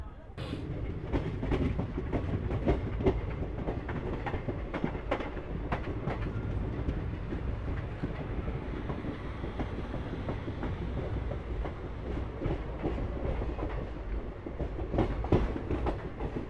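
The Asansol Digha Express runs along the rails near Burnpur, a steady rumbling roll with repeated clickety-clack wheel beats over rail joints throughout, heard from on board.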